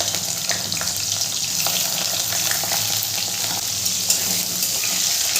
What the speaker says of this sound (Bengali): বেগুনের টুকরোগুলোকে লাল করে আমি ভেজে নেব।